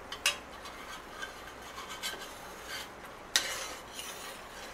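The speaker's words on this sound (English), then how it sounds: "I'm just giving it a stir every now and then." A spoon scrapes and stirs through blackberry syrup boiling in a pot, with soft irregular rasps and a few sharper clinks against the metal, fairly quiet and close with no talking.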